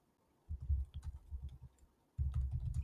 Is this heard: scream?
no